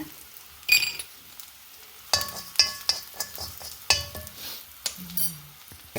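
Rice dry roasting in a pan for tomato sambar, with a spatula scraping and stirring in uneven bursts, light clinks against the metal and a faint sizzle, close and fairly loud with no talk.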